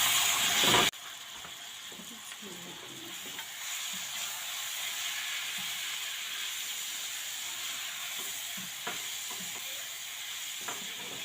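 Chicken pieces hit a hot pan with garlic, giving a sharp burst of sizzle that settles into a steady, fairly quiet frying hiss with small crackles and stirring scrapes.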